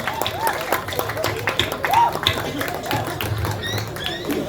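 Audience clapping hands at a lively Balinese-style stage performance, scattered claps under talk and music.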